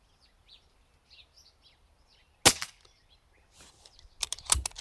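Birds chirp faintly outdoors, then a sharp muffled shot cracks from an Umarex Notos air rifle fitted with a moderator, followed by two more quick suppressed shots close together near the end.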